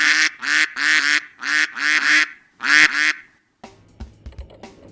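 A cartoonish duck quacking sound effect gives a series of loud nasal quacks in quick bursts, followed by a short stretch of quieter background clatter.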